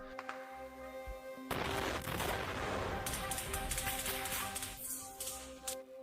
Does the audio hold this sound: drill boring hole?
no